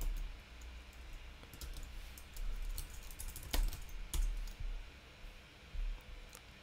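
Keys pressed on a computer keyboard for the Shift-Command-C shortcut: a scattering of light, close clicks and taps at an irregular pace, fairly quiet, over faint background hiss and no talking.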